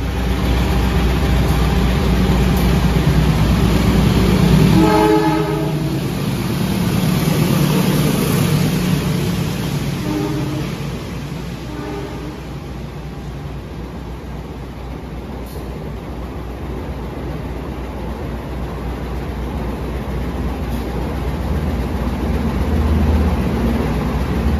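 The Fajar Utama Solo passenger train rumbles by with a steady low roar that swells and slowly fades, with a few brief tonal sounds early on.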